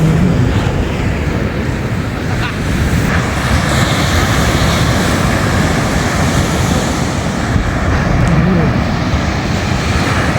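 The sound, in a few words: ocean waves on the beach at La Union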